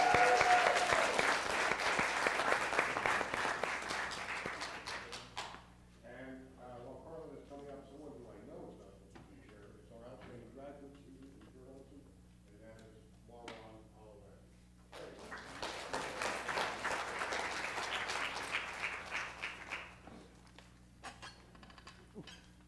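Audience applause at a student media awards ceremony, coming in two loud bursts of many hands clapping, with a stretch of a person speaking at a microphone in the quiet between them.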